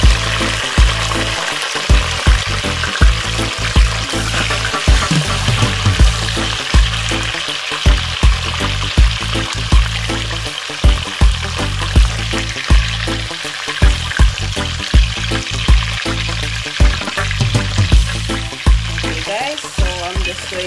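Sweet peppers, onions and scallion stir-frying in a pot for Jamaican stew chicken, a loud steady sizzle with regular clanks and scrapes from stirring throughout.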